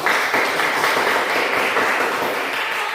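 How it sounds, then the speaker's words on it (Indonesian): An audience in a classroom applauds after a group presentation, making a dense, steady burst of many hands clapping at close range for about three seconds with no speech over it. "berikan tepuk tangan untuk"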